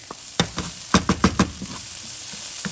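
Shrimp and cauliflower rice stir-fried over high heat in a hot pan: a steady close sizzle broken by a run of sharp scraping clacks of the spatula, with no one talking.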